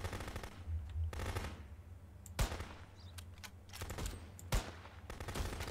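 Bursts of automatic gunfire from the video game Contraband Police rattle in rapid volleys, with a couple of sharper single shots standing out, loud and close in the game's mix.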